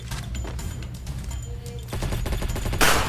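A VSS rifle in the Free Fire video game fires in rapid, sharp bursts that grow denser and louder in the second half, with no talking.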